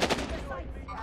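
Hostile gunfire in a military combat scene, a short burst of loud, dense shots packed together at close range, crackling for about a second.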